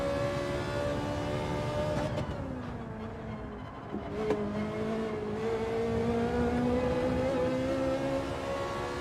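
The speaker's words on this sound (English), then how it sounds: "let's go for a lap in the Ferrari and see" Ferrari race car on a lap in Gran Turismo 7, engine droning steadily at high revs with pitch dipping briefly as it lifts off, then climbing again under acceleration, loud and continuous.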